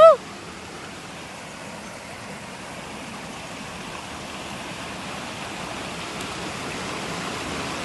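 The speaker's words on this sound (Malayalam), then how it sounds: "ദേ കാണുന്നുണ്ടോ അടിപൊളി വെള്ളച്ചാട്ടമാണ്" After a brief sharp click at the start, a waterfall and flowing stream produce a steady, even roar of rushing water that holds at a constant moderate level for the rest of the clip.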